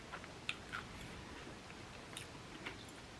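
Quiet crunchy bites and chewing on a dark chocolate pistachio bar, with scattered crisp clicks and soft munching, close up with no talking.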